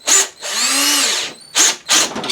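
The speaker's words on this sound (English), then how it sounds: "if you're using a drill to run these in, it's going into an aluminum head" A handheld power drill whirs in short bursts and one longer pull while running screws into an aluminum cylinder head on a Poulan Pro PP4218AVX 42cc chainsaw, loud and close with nobody talking.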